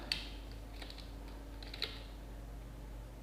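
Sparse, faint keystrokes on a computer keyboard, a few isolated clicks over a steady low electrical hum in a quiet room.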